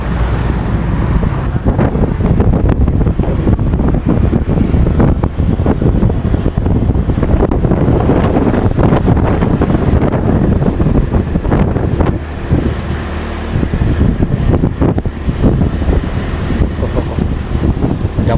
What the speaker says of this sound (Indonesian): Udah mulai angin-angin nih